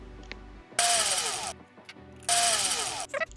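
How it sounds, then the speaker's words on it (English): Electric screwdriver removing two small screws from a headset's main board, two loud close whirring bursts of under a second each. Each burst has a rising whine and is separated by a brief pause with light handling clicks. "I'm going to remove those two screws over there."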